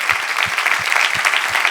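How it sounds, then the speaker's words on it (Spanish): Rhythmic clapping from a church congregation, steady and fairly close, with a few low thumps keeping time under the dense claps. "Dale un aplauso a él."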